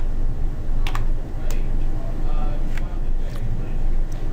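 A few scattered, crisp keystrokes as a website address is typed on a computer keyboard, close up over a steady background hum.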